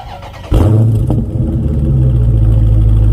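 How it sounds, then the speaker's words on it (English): A 2021 Dodge Charger Scat Pack engine fires up abruptly and revs, then settles into a loud, deep, steady rumble close by. "we're gonna rev them a little bit"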